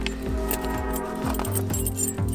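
A bunch of keys found in a broken Ford F250 truck jangles in repeated close metallic shakes and clinks, loud and nearly alone.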